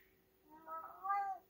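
A cat gives a single drawn-out, rising meow, fairly close but soft, in a quiet indoor room, wanting to be let outside.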